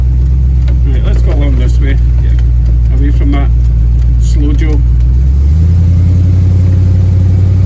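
A Chevy car's engine accelerates while driving, a steady low drone that rises in pitch and strength near the end as the car pulls away, with someone talking over the first part.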